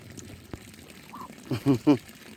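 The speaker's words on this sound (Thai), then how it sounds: "เป็ดนี่แหละครับ เป็ดหน่อยกำลังมา" Short bursts of duck quacking close by as ducks come to be fed, a few in quick succession near the end, with faint background noise and a brief soft voice earlier.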